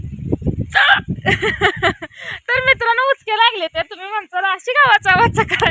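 A voice breaks into several sharp hiccups among short bursts of talk and laughter, close and loud.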